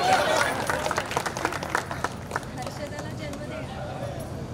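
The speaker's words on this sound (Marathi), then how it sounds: "जरा टाळ्या दिल्या तर बरं वाटेल." Guests at a wedding clap for a few seconds in a scattered burst, and the applause fades while a voice keeps speaking over it.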